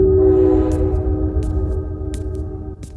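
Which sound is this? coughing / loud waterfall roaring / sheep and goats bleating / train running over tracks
train running over tracks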